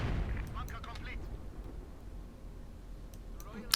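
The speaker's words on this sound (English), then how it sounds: "So that's the second mortar team for ArnoLaz." Mortar fire in the real-time strategy game Company of Heroes 2, booming low thuds and rumbling blasts under a commentator's voice, with scattered crackling battle noise throughout.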